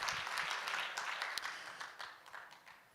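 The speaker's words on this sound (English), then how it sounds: "Let's clap for her." An audience applauds at a client breakfast meeting, clapping fairly faint and spread out, tapering off toward the end.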